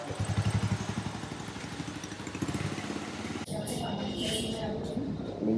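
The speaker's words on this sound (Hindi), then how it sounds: "ये नई बाइक आई है हंटर की, रॉयल एनफील्ड हंटर, देख लें।" A new Royal Enfield Hunter 350 motorcycle runs close by with a steady thumping engine rumble, continuing under a voice talking.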